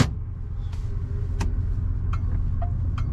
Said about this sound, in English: This is a smooth running car and most things do appear to work.